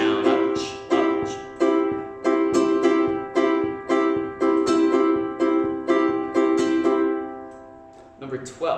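A ukulele strums a quick, repeating pattern of bright chord strokes with short muted gaps, about a dozen regular hits, before a brief pause and a new strum at the end.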